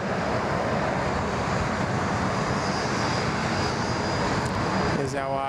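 A jet airliner roars on takeoff at Sydney Airport, a loud, sustained broadband rush of engine noise heard from a distance, with a faint voice briefly mixed in.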